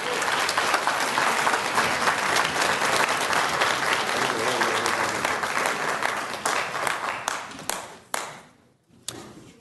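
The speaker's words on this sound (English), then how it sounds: "No clapping, please." A council meeting audience in a city chamber bursts into dense, sustained applause that holds steady, then thins into scattered claps and fades toward the end.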